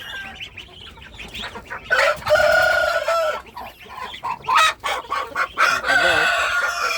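Native chickens clucking and a rooster crowing in repeated bursts, close by, over faint background ambience.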